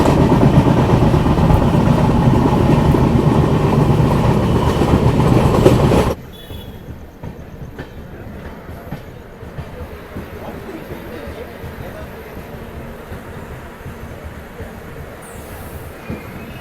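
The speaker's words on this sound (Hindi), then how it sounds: "अब हम लोग की ट्रेन पहुंच चुकी है। इस ट्रेन का 5वां halt Vasai road railway station" Madgaon Rajdhani Express running into Vasai Road station: loud, rumbling rail noise from inside the train for about six seconds, then dropping sharply to a quieter hum and faint rattles as it slows. No one speaks.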